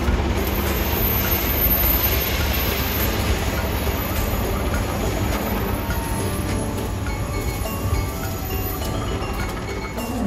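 Bangun Karta passenger train bound for Jombang rolling into Cirebon Prujakan station, a steady loud rumble of wheels and carriages with faint squeals and rail clatter throughout, no voices.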